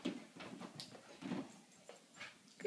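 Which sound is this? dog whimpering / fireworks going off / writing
dog whimpering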